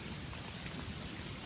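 Steady rain falls outdoors during a walk, a dense, even patter that stays constant throughout with no voices.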